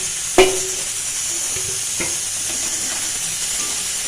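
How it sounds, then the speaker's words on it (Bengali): A spoon stirs and mixes masala in a pan for an egg and masoor dal curry, with a sharp clank of utensil against metal at the start, another softer tap, and a steady low sizzle throughout. "ভালো করে মিশিয়ে নেব।"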